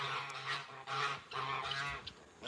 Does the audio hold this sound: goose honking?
yes